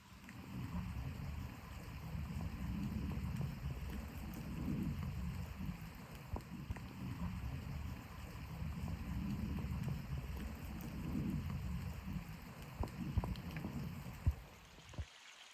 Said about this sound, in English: Rain just let up a little bit